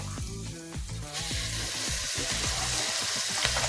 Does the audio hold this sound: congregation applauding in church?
no